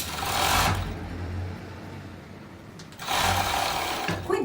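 An overlock sewing machine stitches a thick sweatshirt seam in two loud, fast-running bursts, with a quieter pause between them.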